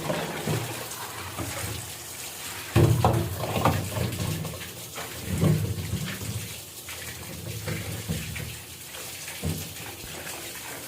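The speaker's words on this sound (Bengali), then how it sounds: "বারবার পানিটা পাল্টে পাল্টে আমি প্রায় তিন থেকে চারবারের মতো আমগুলোকে কচলে কচলে ধুয়ে নিয়েছি" Raw mangoes, about four kilograms, are rubbed and washed by hand in water, giving irregular splashing and sloshing bursts with no talk.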